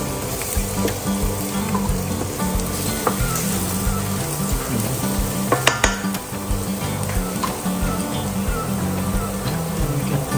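Shredded chicken sautéing in a pan with no onions, a steady close sizzle and frying crackle running throughout, with occasional light clinks of a utensil against the pan.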